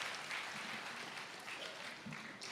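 An audience at a Tamil comedy debate show claps steadily, a dense, even patter of many hands that fills the hall without pause.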